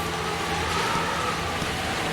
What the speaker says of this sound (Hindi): बाहर में तेज हवा चलने की आवाज